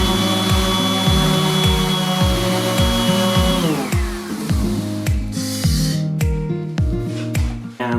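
Woodworking machine cutting MDF board with dust collection running, a loud steady mechanical roar and whine punctuated by regular rhythmic thumps throughout, with the pitch dropping midway as the load changes.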